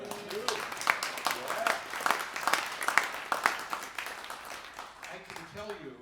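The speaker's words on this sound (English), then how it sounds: "he deserves a round of applause for making it here tonight" An audience applauds a guest speaker at an evening event, a loose round of clapping of medium strength with voices talking over it, tapering off as speech returns.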